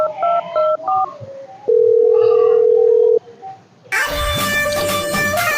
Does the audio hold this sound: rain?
no